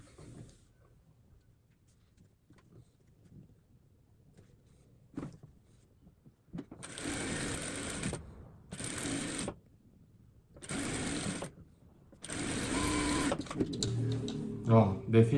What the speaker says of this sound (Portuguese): Vou começar a costurar aqui.